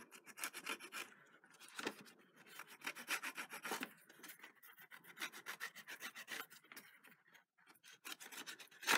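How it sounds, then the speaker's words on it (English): Edges of a paper Valentine's card are distressed with a tool, producing close, dry scraping and rasping strokes in quick repeated bursts with brief pauses between passes. "So I'm just going around the edges and distressing."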